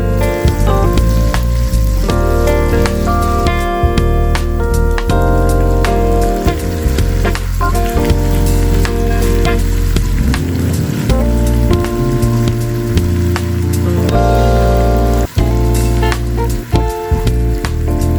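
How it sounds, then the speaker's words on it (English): A thinly sliced medium carrot with sugar and golden raisins fries in a quarter cup of oil, a dense, loud, rain-like crackling sizzle running continuously with occasional sharper pops. "in a pan heat 1/4 cup of oil and fry 1 medium-sized carrot thinly sliced"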